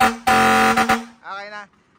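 A fire-style air horn fitted to a truck with a stainless body, mounted at the windbreaker, blasts one loud, harmonically rich, steady tone lasting about a second, followed by a shorter, weaker blast.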